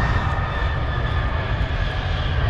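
US vice president's airplane at an American base in Tokyo, a loud steady jet engine roar with a high whine on top, close and continuous without a break.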